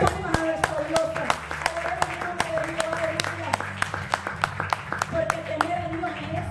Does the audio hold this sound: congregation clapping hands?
yes